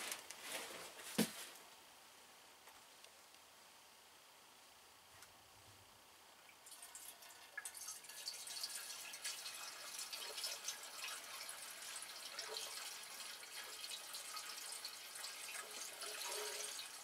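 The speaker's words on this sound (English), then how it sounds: "it's not even a gallon of gas that I'm going to shove in here" Gasoline pours into the fuel tank of a 1984 Yamaha Riva 180 scooter, a soft liquid trickle with a few drips early on, then a steadier, faint, hissing pour.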